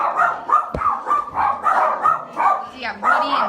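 Several small breed dogs bark and yip at an animal shelter, a rapid overlapping chorus of high, sharp barks close by, with people talking underneath.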